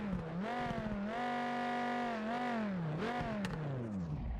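An Audi A3 race car in the Project Motor Racing game runs its engine, rising and falling through several smooth revs in a loud, steady drone heard alone without talk.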